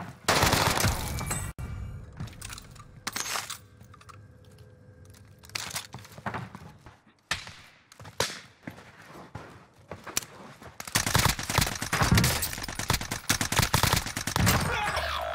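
Gunfire in Call of Duty Warzone Rebirth, with scattered shots and crackling bursts that thicken into rapid, dense fire toward the end, mixed with other game noise and no talk.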